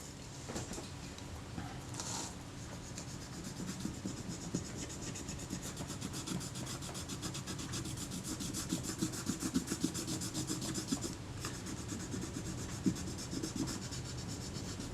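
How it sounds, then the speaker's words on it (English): A cotton Q-tip soaked in solvent rubbed back and forth over a small part of a Kodak Retinette IIA camera, giving a steady close, soft scratchy friction sound that continues throughout without speech. "As you rub over the surface like this with the Q-tip"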